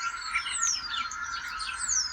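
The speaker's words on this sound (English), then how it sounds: "the house sparrow" House sparrow chirping in a garden, a steady run of bright, busy chirps and tweets carrying on without pause at moderate loudness, with no voices.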